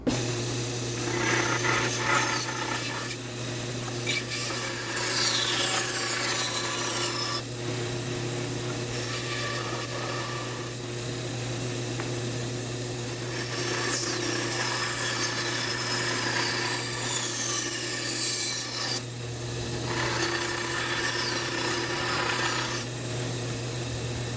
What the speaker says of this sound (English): I'm gonna cut it with the bandsaw to remove all that extra material that I don't need